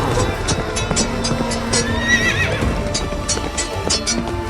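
Horses whinny and neigh amid clattering hooves in a chaotic battle scene where Mughal soldiers' ranks break apart, dense and continuous with layered neighs over a rumbling din.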